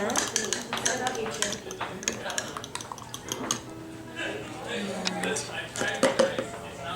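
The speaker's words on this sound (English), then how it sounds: "Stir up the eggs." Eggs being stirred in a bowl for a quiche, with clinking utensil taps against the dish as a person talks over the stirring.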